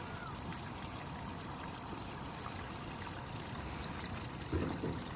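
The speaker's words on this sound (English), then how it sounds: "I just put the hose here just to water all of them." A garden hose runs water onto a bed of broad beans, making a steady, even outdoor rush and trickle throughout, with a small splash near the end.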